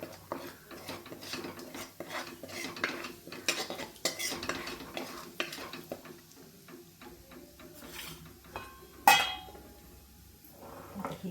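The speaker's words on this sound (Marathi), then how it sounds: "तीन चमचे कोल्हापुरी मटन मसाला टाकणार आहोत आता ते व्यवस्थित मिक्स करून घ्यायचं" Spoon stirring kala masala and Kolhapuri mutton masala into mutton in a metal pot, steady scraping and clinking strokes with a faint sizzle, a sharper clank near the end.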